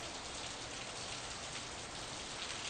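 Steady falling rain in the Steins;Gate 0 video game, a dense even hiss of drops with no talk over it.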